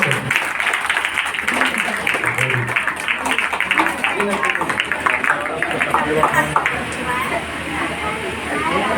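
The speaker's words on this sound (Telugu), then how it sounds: "అందరు చప్పట్లు" A gathering applauds at a child's naming and first-rice ceremony, brisk clapping from many hands filling the room, mixed with voices talking over it.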